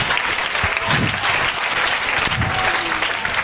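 A church congregation bursts into loud, dense applause that stays at a steady level, a close wash of many hands clapping together from start to end.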